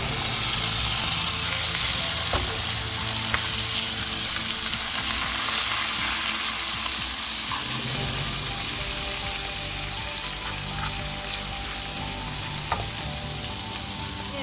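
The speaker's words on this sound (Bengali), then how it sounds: "সো এখন আমরা শিমগুলো ফ্রাই দিলাম।" Green beans frying in butter with garlic and a little turmeric, a loud, dense, steady sizzle close up with occasional soft stirring clicks, gradually easing slightly in intensity.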